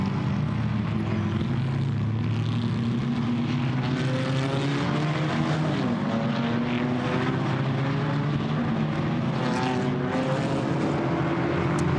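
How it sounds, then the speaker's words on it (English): Chevrolet Camaro GT4 race cars thunder around the Misano World Circuit during a 2018 GT4 European Series race, a continuous deep engine drone whose pitch slowly rises and shifts as the cars pass, loud and sustained. "So really coming good, these big rumbling Camaros."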